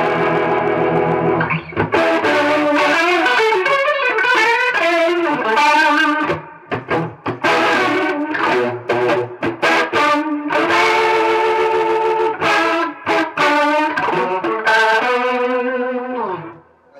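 Electric guitar through a rotary or chorus effect, slow and fast settings, playing sustained chords and melodic lines with a swirling, wavering shimmer and some grit, loud and close with brief pauses between phrases.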